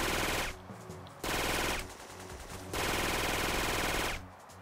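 Rapid machine-gun bursts fired at the player in Syphon Filter 2, Colorado Rockies level, in three loud sustained volleys separated by brief lulls, with no talk.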